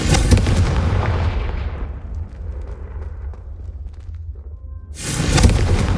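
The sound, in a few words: Confringo spell blasting candelabras in Hogwarts Legacy video game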